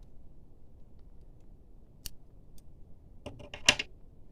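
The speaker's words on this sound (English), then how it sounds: "your yarn is ready to cut" A few quick, crisp snips near the end as scissors cut through crochet yarn after finishing a cardigan sleeve, close and fairly quiet over a faint room hiss.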